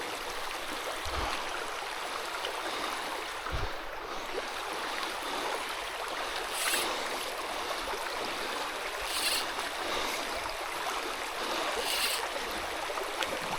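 A trout stream flows in a steady, close rushing wash of water, with a few brief splashes breaking the even current and no voices.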